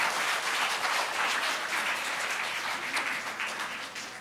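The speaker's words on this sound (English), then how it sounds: "Give yourselves a round of applause." Students in a school presentation give a round of applause, a dense, steady wash of clapping from a large group that holds for several seconds before slowly fading, with no talking over it.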